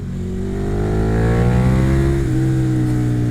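A KTM Super Duke naked motorcycle engine revs hard and close, a loud, rising, buzzing engine note that holds high and then eases slightly near the end.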